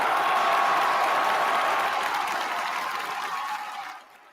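Applause on a music mixshow, a steady wash of crowd clapping at even loudness that fades out over the last second.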